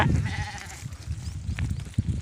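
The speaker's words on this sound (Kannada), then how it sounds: "ಸದ್ಯ ಕುರಿಗಳು ನೀರು ಕುಡಿಯತ್ತಾವು ಏನೋ ನೀರಿಗೆ ಬರ್ತಾ ಇದಾವು" Sheep bleat faintly at a village pond as they come to drink, amid outdoor background noise, with a few scattered calls and rustling close by.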